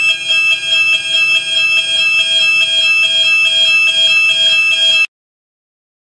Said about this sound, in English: Now she's pressing alarm.